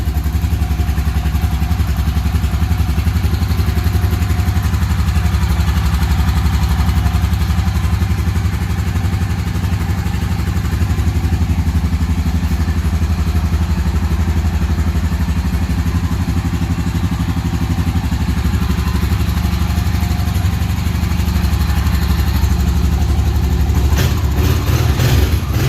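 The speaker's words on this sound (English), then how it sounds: "Engine sounds really good. No knocking or tapping." A 2003 Honda Rancher 350 4x4 quad engine, cold-started, idles steadily and evenly for the whole stretch with a constant low mechanical hum and no knocking, talk or breaks.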